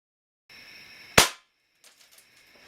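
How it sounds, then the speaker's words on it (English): A Crosman 760 air rifle fires a pellet: one sharp, loud crack close by after a quiet mechanical lead-in, followed by a few faint clicks of handling. "So I'm going to shoot one more of each pellet on camera."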